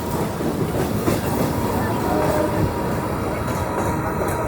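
The Howrah–Siuri Hool Express rolls steadily with dense broadband rumble and faint rhythmic clatter of wheels, loud and continuous throughout, with no voices.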